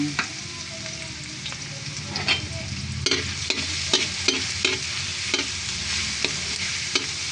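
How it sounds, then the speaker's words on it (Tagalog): Garlic sautés in hot oil in a pan while cooking chicken mushroom, giving a steady sizzle and a run of sharp scraping and clattering stirs from a spatula in the second half, with no voices. "Magigisa na tayo ngayon ng bawang."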